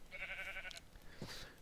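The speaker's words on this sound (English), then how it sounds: "Ah, sheep." A sheep in the Minecraft game gives a single wavering bleat, soft and fairly brief, followed by a faint softer sound, with no talk.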